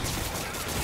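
Dense gunfire from a video game makes a loud, continuous crackling barrage that fills the whole moment, with speech mixed underneath.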